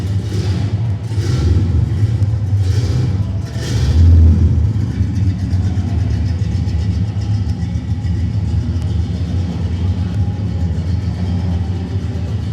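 A 1969 Camaro RS V8 with Hooker headers, 3-inch pipes and Borla exhaust revs several times in quick pulses early on, then settles into a deep, loud, steady rumbling idle close by.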